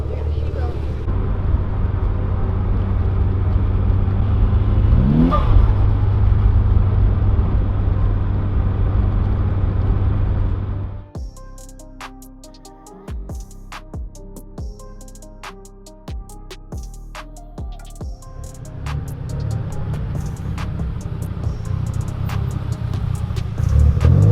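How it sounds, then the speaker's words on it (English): A Mitsubishi Lancer Evo 9 engine idles with a steady low rumble, then cuts off; sharp clicks and knocks follow in the quiet before a rough, loud running sound returns. Voices talk over it. "We need another cold start for the boys."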